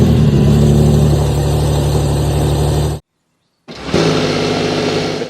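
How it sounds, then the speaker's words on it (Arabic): A Porsche 911 Turbo of the newest generation with an electric turbo and no conventional starter, its engine running loud and steady up close, briefly cutting to silence, then firing back into a strong continuous idle with no talking. "فده صوت تشغيل العربيه"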